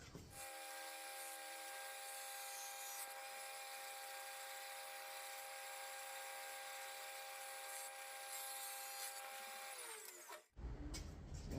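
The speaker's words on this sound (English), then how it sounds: "It's a pull saw, cuts on the pull instead of the push." A Japanese-style pull saw cutting wood while making a serving tray, a steady continuous rasping that runs almost unbroken for about ten seconds, close and loud, then stops abruptly; no talking.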